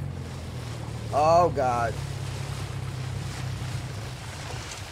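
A motorboat engine drones steadily over water and wind in the Resident Evil 4 remake, a constant low hum running underneath. Partway through, someone speaks a short, strained exclamation over it.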